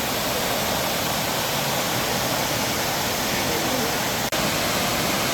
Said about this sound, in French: Mais ça fait vraiment quand même une belle chute.